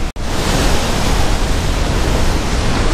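Ocean surf breaking below a cliff at Santa Cruz, a loud, continuous wash of rushing water and wind noise that fills the clip after a brief dropout at the start.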